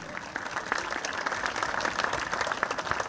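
An audience at the opening of the Alexela Arena in Tallinn applauds in a steady, dense roar of clapping that fills the hall throughout.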